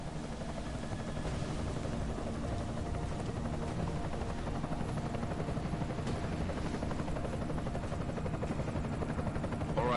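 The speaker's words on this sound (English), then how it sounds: "Enemy helo sighted." An enemy helicopter in the video game Deus Ex: Mankind Divided, a steady loud rotor thump and engine roar holding evenly for the whole stretch with no voices over it.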